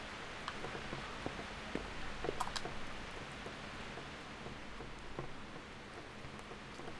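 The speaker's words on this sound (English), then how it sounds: "Rain." Rain in the video game Kingdom Come: Deliverance, a soft, steady patter of drops with scattered faint ticks, continuous and fairly quiet throughout with no voices over it.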